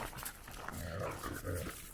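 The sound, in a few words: dogs panting and growling outside at night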